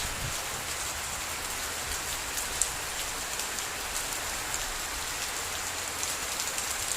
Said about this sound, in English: Rain starting to come in on the camera here.